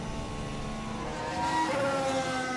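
Formula 1 car at the British Grand Prix crossing the line, a steady loud engine drone with a rising pitch toward the end, no voices.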